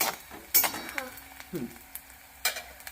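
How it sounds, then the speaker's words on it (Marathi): Chopped onion and three to four green chillies are sautéed in a pan, with a soft sizzle under scattered spatula scrapes and clinks against the metal, fairly quiet and close. "एक बारीक चिरलेला कांदा, 3 ते 4 हिरव्या मिरच्या चिरून टाकल्या. आता याला परतून द्यायचं."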